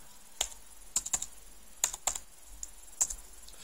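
Close keystrokes on a computer keyboard enter an administrative password, a handful of sharp, irregular clicks spaced over a few seconds against a quiet background.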